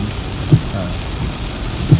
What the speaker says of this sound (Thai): ตอนนี้ฝนก็ยังตกมาเรื่อย ๆ ยังไม่มีทีท่าว่าจะหยุดนะครับ